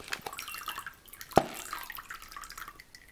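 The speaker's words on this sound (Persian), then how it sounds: "بعد از 5 دقیقه اونو بر میدارم، آبش خالی بشه کامل." Water trickles and drips out of a perforated can holding sprouting mung beans, a close, soft stream with one sharper splash partway through and scattered drips.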